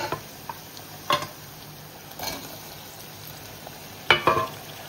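Tomatoes added to onions already cooked soft in a pan, with a low background sizzle broken by a few sharp crackles and stirring clicks, louder around the end.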